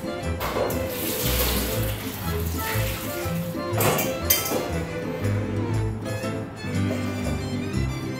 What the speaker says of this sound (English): Pour the noodles into a bowl of cold water.